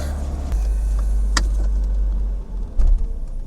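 A BMW E30 that sat unused for four years is driven, its engine giving a steady low rumble with a few clunks and rattles from the cabin, heard from inside the car.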